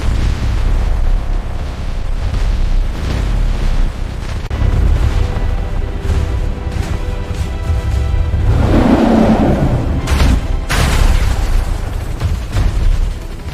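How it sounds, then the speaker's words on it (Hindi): A continuous, heavy low rumble with booming bursts and crackling debris, like a big explosion and rocks tumbling, loud and dense throughout. "दोनों के टकराते ही जोरदार धमाका होता है और आसपास की चट्टानें टूटकर गिरने लगती हैं।"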